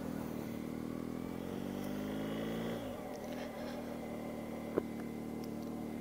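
A BMW R 1250 GS HP motorcycle engine idles and runs steadily while warming up, a close, continuous throbbing drone that dips briefly midway, with a single sharp click near the end.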